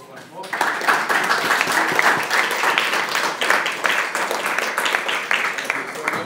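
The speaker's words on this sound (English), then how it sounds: "I think we will give them a big round of applause once more." An audience applauds guests seated at the front of a panel discussion on Nepal's new constitution, a steady roomful of clapping that rises quickly and holds loud throughout, with voices mixed in beneath it.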